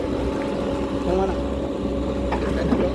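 Grass-cutting machine engine running as a steady, droning hum in the background while people talk nearby.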